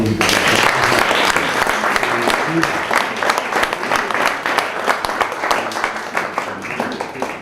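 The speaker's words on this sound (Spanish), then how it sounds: "un aplauso para el Cubanismo" A crowd applauds for Cubanismo at an evening event with Aleida Guevara, loud sustained clapping that starts dense and slowly thins out, with voices and cheers mixed in.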